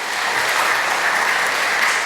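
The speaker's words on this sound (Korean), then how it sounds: "교회 안에 모든 교육부서들 위해서 이 시간에 격려의 박수 한번 하시겠습니다" A church congregation claps in encouragement, a loud dense wash of applause sustained evenly from start to finish with no voices over it.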